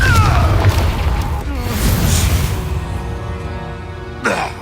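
A Confringo fire-blast spell in Hogwarts Legacy erupts as a loud booming burst amid dense chaotic combat effects, with a second sharp impact near the end.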